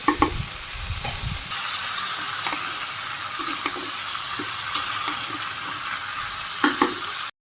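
Vegetables stir-fried on a village stove, with a steady sizzle and repeated close spatula scrapes and clacks against the pan throughout, a thumping rustle at the start.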